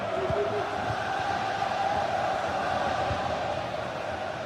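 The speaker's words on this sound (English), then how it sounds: "The crowd have really got behind them today." Stadium crowd cheering in a football video game, a steady roaring wash of many voices with no distinct peaks, sustained and fairly loud throughout.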